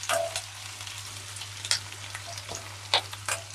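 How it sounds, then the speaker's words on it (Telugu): Onions frying in a pan for a Telugu home-style tomato ukkera, a soft steady sizzle close by with occasional light clinks and stirs, no voices. "ఆనియన్స్ చక్కగా వేగినాయండి."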